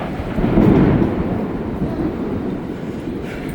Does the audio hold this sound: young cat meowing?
no